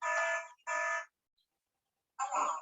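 A Hikvision alarm system sounds in three loud electronic buzzer bursts, two close together, then a pause and a third.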